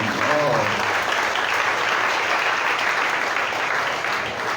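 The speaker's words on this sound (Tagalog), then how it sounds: "Palakpak para sa nanay natin ganyan." An audience at a talk breaks into steady, dense clapping that fills the whole moment, with a brief voice at the start.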